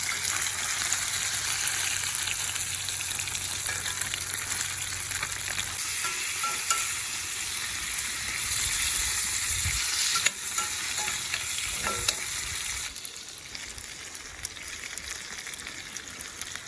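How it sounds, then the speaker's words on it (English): Food frying and sizzling in a pan while being stirred, a steady bright hiss running throughout with shifting scrapes and bubbling, and no talk. "She's just cooking. Sounds of cooking."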